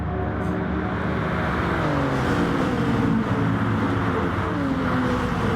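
A GR3 race car engine screams steadily through Monza in a racing video game, with loud, continuous drone and rising, shifting engine tones throughout.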